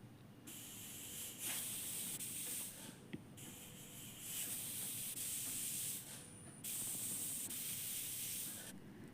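A pressure cooker on a stove cooking dal, tomato and onion for a tomato curry lets off repeated bursts of steam hiss. The soft, steady jets of a few seconds each are split by brief pauses.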